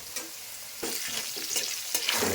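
Potatoes frying in a pan with salt and turmeric are stirred, giving scraping, rustling stirs over a steady oil sizzle, with louder strokes coming in bursts throughout.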